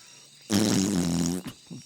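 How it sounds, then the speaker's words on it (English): A single cartoonish fart effect from the game Roadwarden, a buzzy, tonal blast of about a second followed by a couple of short sputters, close and clear with no talking. "Like 6 or 7 more fart sounds."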